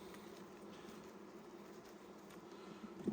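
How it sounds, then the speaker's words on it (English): Honey bees buzzing around an opened, productive hive, a faint steady drone of many insects with soft wingbeat whirs passing close now and then. "they just are not the friendliest of bees"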